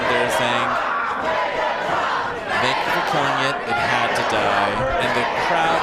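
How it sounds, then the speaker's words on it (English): A crowd chanting "Megatron" in unison at a robot fighting championship arena, a loud rhythmic group chant with repeated syllables, mixed with cheering and general crowd noise throughout. "the crowd is chanting Megatron, Megatron, Megatron"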